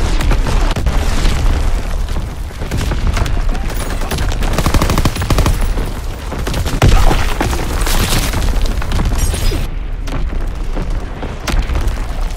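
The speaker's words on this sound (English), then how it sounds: "Incoming enemy artillery!" Artillery shells burst in a Call of Duty WW2 multiplayer team deathmatch, heavy booms landing among dense machine-gun fire and rapid gunshots, loud and continuous throughout.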